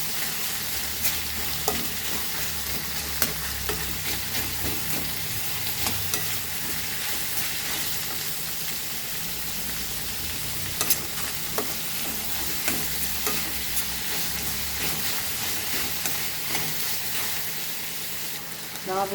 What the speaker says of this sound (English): And fry this very nicely,